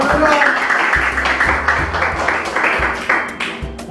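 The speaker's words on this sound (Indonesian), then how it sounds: "Mantap, tepuk tangan dong." A high-school class of students claps in a classroom, loud, dense and continuous, with a few heavier bumps and voices mixed into the clapping.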